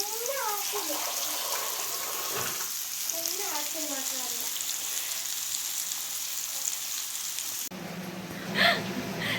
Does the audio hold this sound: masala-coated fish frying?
yes